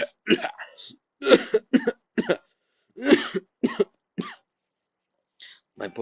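An elderly man reading The Cask of Amontillado aloud imitates a character's cough, making a series of separate, close hacking bursts and throat-clearing sounds with short silent gaps between them.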